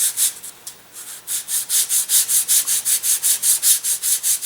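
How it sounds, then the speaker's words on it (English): Fine sandpaper rubbing the laser-cut burr off a wooden part for an elastic-launched glider, first a few uneven strokes, then a quick, steady back-and-forth rhythm of close, dry scraping. "I'm just sanding the laser burr off of this top and bottom"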